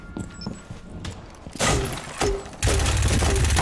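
Video game gunfire: bursts of loud shots and booming blasts, building up to a dense, continuous barrage toward the end.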